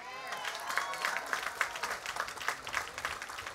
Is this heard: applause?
yes